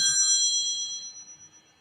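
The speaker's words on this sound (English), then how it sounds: "I'm not going to answer that because no one should be ringing me at the moment." A mobile phone ringtone for an incoming call plays a bright, sustained electronic tone that fades away over under two seconds, with nobody speaking over it.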